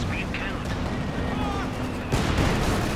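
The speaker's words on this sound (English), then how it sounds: "Double Zis barrage once again, targeting all these support weapons." Booming artillery rounds from a ZiS gun barrage in the World War II strategy game Company of Heroes 2, a sharp heavy blast near the end over a steady rumble of battle, under continuous commentary.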